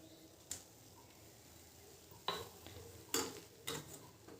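A spoon stirs clove powder into boiled ginger water in a pot on a gas stove, making a few sharp metallic clinks and scrapes against the pot over a quiet background.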